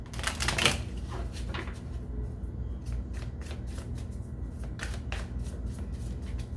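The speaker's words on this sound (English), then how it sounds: "One more shuffle here." Tarot cards being shuffled by hand, a loud riffling burst at first followed by repeated softer flicks and snaps of the deck, close up over a low steady background hum.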